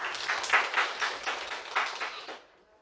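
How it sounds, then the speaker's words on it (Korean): Audience at a housing welfare conference giving a short burst of applause, moderately faint and fairly sparse, fading out after a couple of seconds. "역시 박수로 함께 맞아주시겠습니다."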